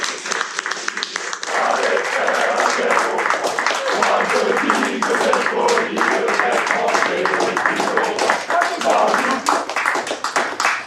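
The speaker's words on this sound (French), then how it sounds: "La promotion de Samuel et de ses camarades reçoit applaudissements et compliments des aînés." Senior cadets at a fighter-pilot training school applaud a parade of new recruits, dense sustained clapping from a sizeable group outdoors, loud and close, with voices talking over it.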